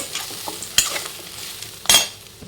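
Grated coconut being roasted and stirred in a hot pan, with a soft sizzle underneath and two sharp scraping stirs standing out near and loud, no voices.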